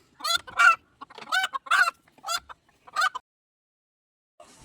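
Chickens with their newly hatched chicks at a home in Kerala, clucking in several short, close bursts followed by a quiet pause and a faint call near the end.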